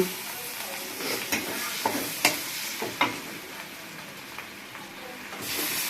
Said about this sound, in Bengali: এরপর চিংড়ি মাছ উঠিয়ে আমরা পেঁয়াজ কুচি দিলাম।